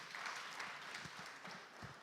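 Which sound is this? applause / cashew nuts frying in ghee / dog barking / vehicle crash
applause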